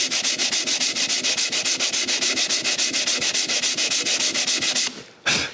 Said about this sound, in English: After sanding this a bit